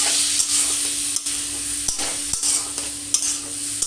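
Chicken giblets frying in a pan for pulao: a constant close hiss of sizzling oil broken by repeated sharp scrapes and knocks of a spatula stirring against the pan.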